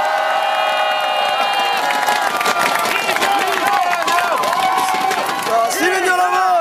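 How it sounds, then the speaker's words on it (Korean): A large rally crowd in Wonju, South Korea, cheers and shouts for the Democratic Party leader, with voices overlapping in a dense, steady roar at close range. "다시 한번 큰 박수를 부탁드리겠습니다"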